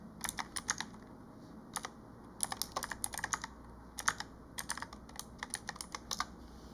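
Bursts of computer keyboard typing, quick clustered keystrokes with short pauses between runs, close and fairly quiet over a low steady hum.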